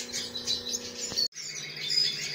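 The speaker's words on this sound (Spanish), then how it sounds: "Mira, estos son pájaros mestizos, cruce de tres sangres." Mixed-breed cage birds crossing Spanish timbrado with other Spanish breeds chirp and tweet in close, bright bursts, with a brief silent gap midway before the twittering resumes.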